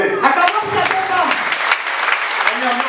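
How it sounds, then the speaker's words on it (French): A church congregation claps for a woman during a consecration ceremony in Duékoué, a steady burst of crowd applause with a voice speaking over it. "Acclamons pour cette femme."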